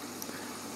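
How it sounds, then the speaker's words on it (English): Water flows quietly into a Candy washing machine during its pre-wash fill, a faint, steady hiss and gurgle that stays even throughout. "So I'm just going to fill it up."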